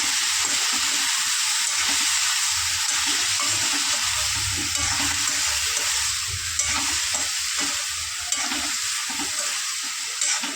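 Cauliflower and capsicum sautéing in a pan, with a steady loud sizzle and the spoon stirring repeatedly through the vegetables for the whole stretch, no talking.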